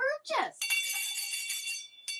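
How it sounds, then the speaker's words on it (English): A small handheld bell rings close and bright with a sustained shimmering tone that fades, then is struck once more near the end, following a brief burst of voice at the start. "Ringing my bell."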